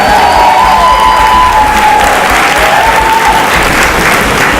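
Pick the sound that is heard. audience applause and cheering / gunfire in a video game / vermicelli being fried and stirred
audience applause and cheering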